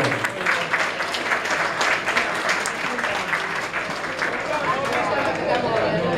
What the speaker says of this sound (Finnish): Ilan ensimmäiset aplodit.